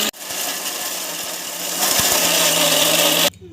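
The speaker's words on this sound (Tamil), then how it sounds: "மிக்ஸி பண்ணிக்கணும். மிக்ஸி பண்ணிக்கலாம்." Electric mixer grinder whirring as it grinds ragi laddu ingredients, a harsh, loud high-pitched whine with rattling grains. It runs steadily, rises in intensity midway, then cuts off abruptly near the end.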